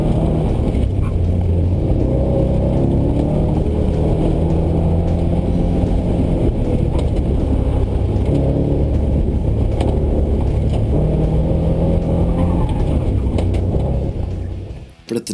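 A BMW M3 with a swapped Ford Explorer V8 at a drag strip runs as a steady, loud, low mechanical drone that holds near and constant before cutting off abruptly at the end.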